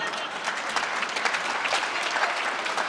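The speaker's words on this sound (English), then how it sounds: "I don't know if people are applauding the spirit of your answer or just the humor." A crowd at a counterterrorism panel discussion bursts into sustained applause after a humorous answer, a thick, even wash of clapping from many hands.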